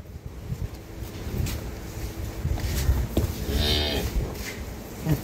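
A dairy cow on a farm in Dinajpur gives one drawn-out, nearby moo in the middle, heard against wind rumble and low outdoor background noise.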